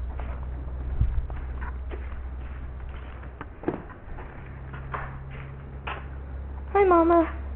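A kitten gives a few small, faint mews among soft shuffling and handling noises and a low steady hum, ending with a clearer, louder wavering meow.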